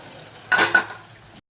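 Boiled, mashed potatoes stirred with mustard seeds into hot oil in a pan, a brief scraping, sizzling clatter of spoon against metal in two quick strokes over a low frying hiss.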